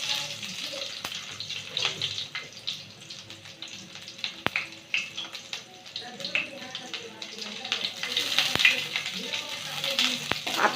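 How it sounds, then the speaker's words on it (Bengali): Cumin seeds and onion for a masoor dal and oats khichuri sizzle and fry in hot oil, a steady crackling hiss with occasional stirring clinks, while someone talks over it. "তেল দিয়ে একটু জিরে সম্বার দিয়ে দিলাম।"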